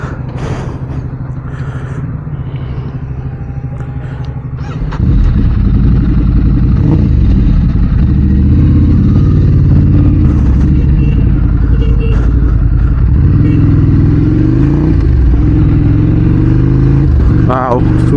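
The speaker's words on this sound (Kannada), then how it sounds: "ಇಲ್ಲಿಂದ ನಾನು ಅಣ್ಣನ ಡುಕಾಟಿ ಓಡಿಸ್ತೀನಿ, ಹೆಂಗಿದೆ ಅಂತ ನೋಡೋಣ." A Ducati motorcycle being ridden: after a quieter stretch, a loud, close, steady engine drone takes over and holds for the rest of the clip, with a voice talking over it.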